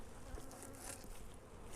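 Honey bees buzz around a hive whose boxes have just been reversed, a steady, fairly faint drone of many wings that continues without a break for the whole short stretch.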